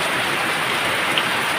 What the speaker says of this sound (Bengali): রিমঝিম বৃষ্টি উপভোগ করছি